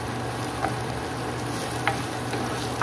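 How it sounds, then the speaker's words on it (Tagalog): Ingredients for mung bean stew, with ginger among them, sauté in a pot with a steady close sizzle and a few soft scrapes from stirring. "nagigisa na po ako sa mga sangkap"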